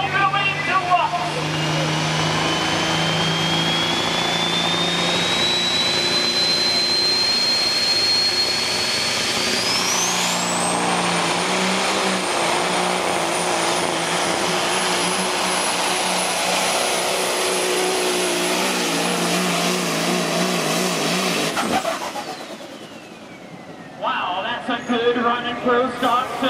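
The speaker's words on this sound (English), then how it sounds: "Pro stock semi started in the left-hand corner, ended up in the right hand." Pro stock semi truck roaring through a pull at a county fair truck pull, a loud sustained engine and turbo whine climbing steadily in pitch for over twenty seconds before cutting off, then revving again, with an announcer talking over it.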